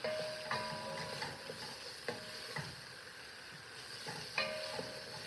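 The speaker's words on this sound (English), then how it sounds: "So now I'm cooking the squash, the onion, and the garlic." Squash, onion and garlic sizzle in a pan for soup, a steady frying hiss broken by a few sharp stirring scrapes and clinks, close and fairly quiet with no talk.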